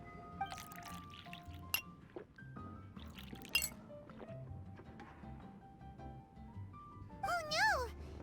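Glass clinking and juice being poured in Genshin Impact's Summertime Odyssey: faint, sparse clinks and light glassy taps over soft game ambience, ending with a brief warbling chime.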